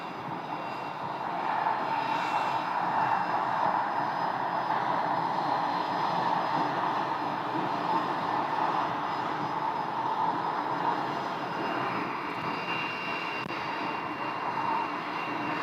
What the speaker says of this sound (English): Short final, runway 21, big lucky. Another Cessna Citation right there.